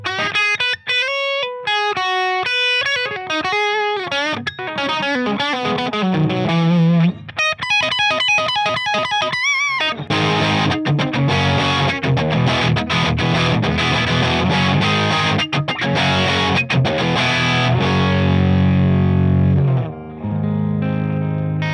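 Electric guitar through a Marshall 1987x amplifier with plenty of gain: picked single notes and runs at first, then thick, heavily distorted chords ringing loudly and continuously until they fade away at the end.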